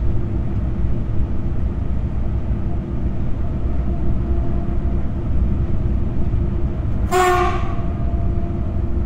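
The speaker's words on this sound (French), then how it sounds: "Nouvelle rame Régiolis assurant un train TER Redon-Nantes." A Régiolis TER train passes with a steady loud rail rumble, heard from inside a BB 22200 locomotive cab, and a short horn blast sounds near the end.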